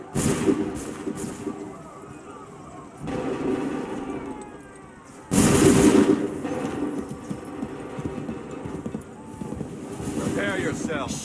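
Musket volleys from lines of soldiers in Assassin's Creed III erupt as a few heavy bursts spread across the clip, the loudest near the middle, amid shouted commands and battlefield ambience.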